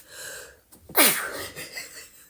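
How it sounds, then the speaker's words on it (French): A single sharp sneeze bursts out close by, preceded by a quick inhaled breath, then fades into quiet room noise. "Je vais éternuer."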